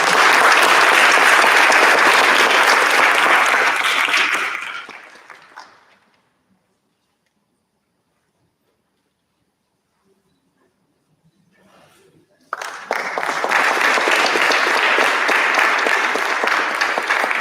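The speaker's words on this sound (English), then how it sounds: "Please give a big round of applause for Mr. Rajesh Shokani and his service to Little Rock community." Loud applause from an audience at a community inauguration concert fills the first few seconds and fades out, followed by about six seconds of near silence. A second strong burst of clapping then starts abruptly and continues to the end.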